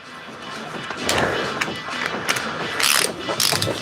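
Ratchet wrench loosening a bolt during an engine swap on a BMW 335i with the N54 engine, close metallic ratcheting clicks in short bursts with clanks and handling noise between them.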